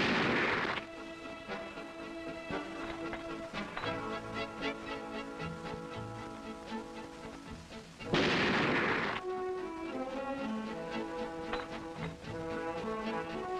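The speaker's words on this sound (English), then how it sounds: "Each shooter will fire three shots at 100 yards" A Remington Model 700 bolt-action rifle fires at a 100-yard range: two sharp, booming shots, one at the start and one about eight seconds later, each with a short echo. Steady background music plays between them.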